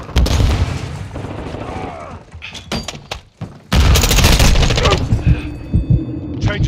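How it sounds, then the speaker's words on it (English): A stun grenade and gunfire in Call of Duty Modern Warfare 2 multiplayer, with loud bursts of shots, a brief lull, then a sharp blast followed by sustained rapid firing and booming. "Stun grenade out."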